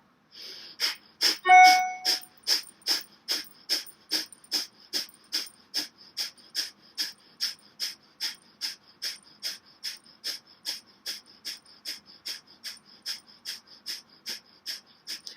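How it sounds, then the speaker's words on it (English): Breath of fire yogic breathing during a guided meditation: a rapid, even train of sharp nasal exhalations, roughly two per second, moderately close and steady for the whole stretch with no talking. "This is the breath of fire."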